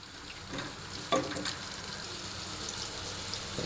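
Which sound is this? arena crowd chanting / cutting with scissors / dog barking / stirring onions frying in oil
stirring onions frying in oil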